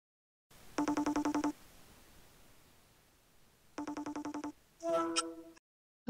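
Telephone call ringback tones: two bursts of rapid pulsed ringing separated by a quiet gap, followed by a brief warbling tone, clear and close.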